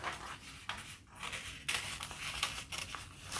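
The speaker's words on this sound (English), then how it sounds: "what you want to do is cut them in half." Paper crinkles and snips as scissors cut gold and silver joss paper sheets in half, a run of close, crisp cutting strokes with brief pauses between them.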